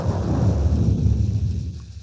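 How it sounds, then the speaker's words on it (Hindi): Deep, continuous thunder rumbles loud and close for about two seconds, a broad low roll with a faint hiss of rain above it and no voices. "देख लो मेघ गरज रहे"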